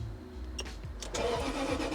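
Car engine cranks briefly and catches within about a second, then settles into a quiet, steady idle. The sound is faint and no one speaks.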